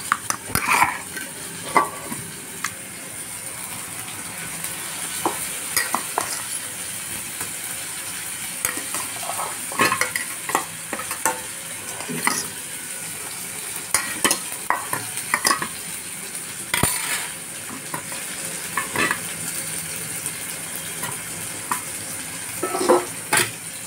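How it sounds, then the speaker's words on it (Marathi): Mashed eggplant bharit is stirred in a frying pan, with a spatula scraping and clinking against the pan in irregular strokes over a steady background sizzle, close and fairly loud, with no voices. "मिक्स करायचं छान छान मिक्स करून घ्यायचं"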